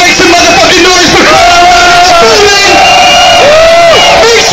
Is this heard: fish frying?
no